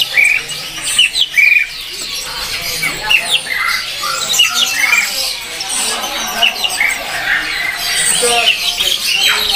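Female F1YS canaries at a bird kiosk give a busy stream of high chirps and squawks, many overlapping calls close by and fairly loud, with some speech-like sounds mixed in.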